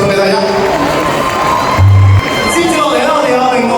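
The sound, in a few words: audience applause and cheering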